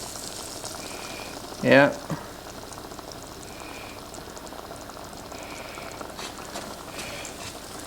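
Butter foams and browns in a pan with a steady, quiet sizzle and bubbling hiss throughout, and one short spoken word breaks in near the start.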